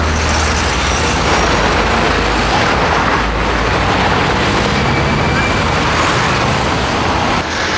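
Dense rush-hour road traffic in Manaus, a loud, continuous roar of many cars, buses and trucks passing close by without pause.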